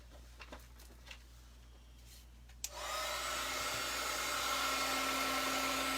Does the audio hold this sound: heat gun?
yes